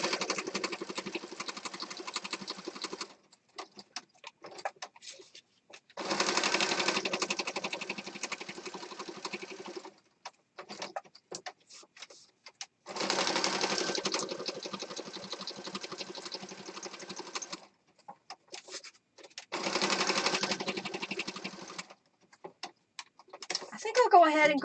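Sewing machine stitching mixed media fabric, running in several sustained bursts a few seconds long separated by quiet pauses, close and moderately loud.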